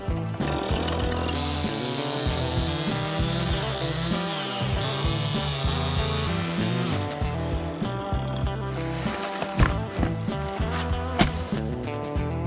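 A loud, close chainsaw revs continuously with a harsh buzzing drone, pitch shifting slightly as it bites into a fallen tree on a mountain bike trail.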